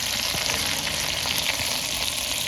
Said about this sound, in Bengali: এই মাছটা হালকা করে ভাজার কারণ হচ্ছে এই মাছটা তেলে আজকে রান্না করব